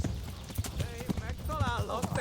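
Rhythmic clip-clop of horse hooves in the video game Kingdom Come: Deliverance, close and steady, with a person talking over them.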